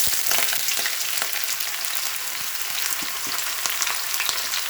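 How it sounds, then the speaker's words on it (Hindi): Onions sizzle in hot oil in a pan while kaleji, dil and gurde are cooked for taka tak, giving a steady, dense crackle with scattered sharper pops and no voices. "अब हम इसमें सबसे पहले प्याज ऐड करेंगे।"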